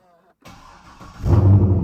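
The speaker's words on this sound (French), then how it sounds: "j'ai démarré le moteur carrément." A car engine cranks and catches, rising from a quiet start into a louder steady idle near the end, heard close by during an automotive diagnostic check.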